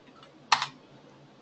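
Typing on a computer keyboard: a brief cluster of two quick, crisp key clicks stands alone against a quiet room background.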